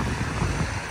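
Strong wind gusts across the lakeshore near Sortavala in Karelia, a loud, continuous roaring rush buffeting the microphone, with no voices.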